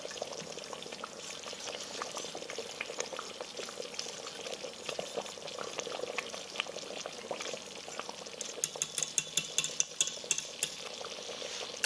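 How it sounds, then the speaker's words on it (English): Thick gravy pours over meatballs in an Instant Pot for meatball stroganoff, giving a soft, continuous wet trickle and slosh, faint and close, with a few sharper clinks toward the end. "And pour the gravy over the meatballs."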